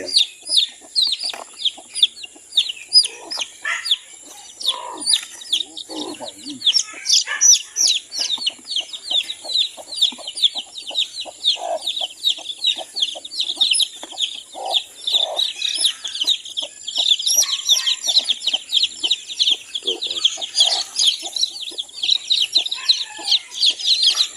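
Chickens crossbred with Rhode Island stock cluck and chirp steadily throughout, many birds close by in a busy flock, with rapid overlapping calls and no talking.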